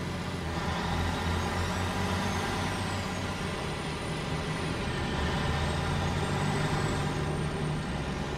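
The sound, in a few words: heavy truck hauling trailer in Snowrunner video game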